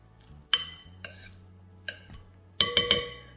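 Bowls and dishes clink and knock while corn salad is moved between them, with a sharp cluster of ringing contacts at the start, two lighter taps, then a quick run of clatters near the end, close by.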